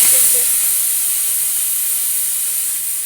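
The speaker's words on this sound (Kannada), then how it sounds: "cooker vigil ಹೊಡೆದಿದ್ದಾಯಿತು" A loud, steady hiss of escaping steam from a pressure cooker whistling, continuous for the whole stretch and fading slightly toward the end.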